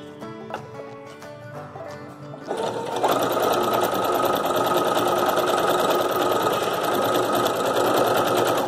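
A sewing machine stitching a satin dupatta runs at a steady, fast, rattling pace after a few seconds of quieter tapping and handling, staying loud and continuous to the end.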